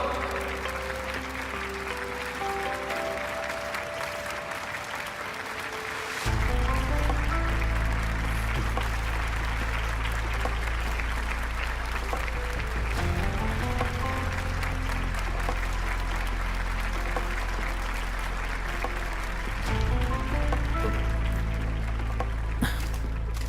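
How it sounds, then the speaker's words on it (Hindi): A large audience claps loudly and continuously to welcome a hero, the applause swelling in several waves with brief dips between them, sustained for over twenty seconds. "सभी लोग जोरदार तालियों से स्वागत कीजिए हमारे सच्चे हीरो का"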